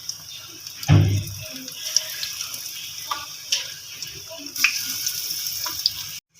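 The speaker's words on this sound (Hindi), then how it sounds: "मैं पकोड़े फ्राई करने लगी हूँ।" Onion and chicken pakoras deep-fry in hot oil, giving a steady close sizzle and crackle with a louder splash-like burst near the start and scattered small pops.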